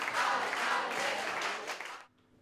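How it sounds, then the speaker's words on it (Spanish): Crowd applause greets Miriam Andrés, the mayor, as she leaves the town hall in Palencia, a dense steady wash of clapping that cuts off abruptly near the end and leaves quiet behind. "recibió una gran ovación al salir del ayuntamiento"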